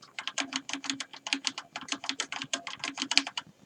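Rapid, quiet clicking of keys on a Tesoro Excalibur Spectrum mechanical keyboard with red switches, a continuous run of soft, even keystrokes heard up close with no talking.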